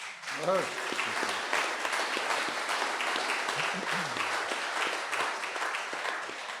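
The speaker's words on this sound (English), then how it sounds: "Give them a big round of applause." Audience at a grand concert of traditional music applauds young workshop performers, with a steady, moderately distant wash of clapping and a few brief voices at the start.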